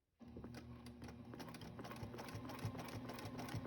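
Sewing machine stitching a quilt border in the ditch along the edge of a ruler: a quiet, steady mechanical whir with a rapid regular needle patter, heard alone.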